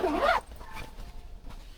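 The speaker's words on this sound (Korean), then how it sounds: "전용 가방에 이렇게 해서 지퍼로 싹 닫아주시면 끝나요" A zipper is pulled shut on the carry bag of an alcohol camping stove, one quick loud zip at the start followed by faint rustling and handling.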